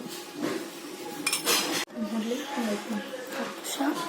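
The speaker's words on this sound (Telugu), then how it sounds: "సో వీటన్నిటిని నీట్గా కలుపుకోవాలి." White pasta sauce with chilli flakes and pepper is stirred in a pan, with a spoon clinking and scraping against the metal over a quiet sizzle. Someone talks faintly in the background.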